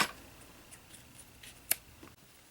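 Scissors snip a crochet yarn tail while finishing a miniature bear, giving one sharp, close click after quiet handling noise, with no talking.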